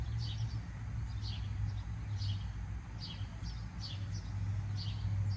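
Small birds chirp in short repeated bursts while lined up on a fence waiting for morning feed, with a steady low hum underneath throughout.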